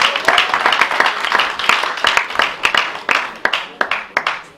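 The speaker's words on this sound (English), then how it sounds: "Please give that a round of applause." A crowd applauds steadily, dense clapping that thins into scattered individual claps toward the end.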